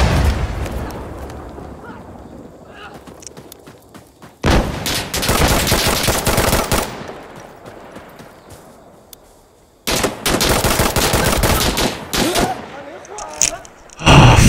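Gunfire in the video game Insurgency Sandstorm during a night operation: two long, loud bursts of sustained automatic fire separated by quieter ambience, with sharp shots at the very end.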